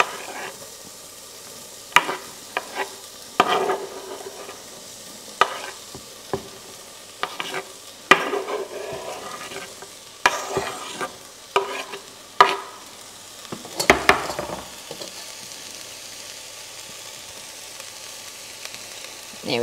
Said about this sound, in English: we're just going to toss in the onion and capsicum